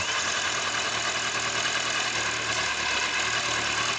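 A Kawasaki ZZR1100 D motorcycle engine, under restoration with an upgraded fuel pump, runs steadily while warming up, a constant, loud, close mechanical drone without speech.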